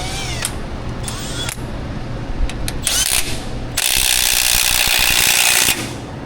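A ratchet ratchets the crank bolt on a Toyota 4.7 V8 engine, rapid clicking bursts, close and loud, building into a continuous whirring run before stopping.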